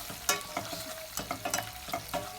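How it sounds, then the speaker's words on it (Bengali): Onion and garlic fry with salt in oil in a pot, a light sizzle broken by repeated sharp clatters of a spoon stirring against the metal. "আমি একটা হাঁডির মাঝে 4 টেবিল চামচ তেল লইছি আর তেলের মাঝে পেঁয়াজ রসুন পরিমাণ মতো লবণ দিয়া 5 থেকে 6 মিনিট কুক করবো"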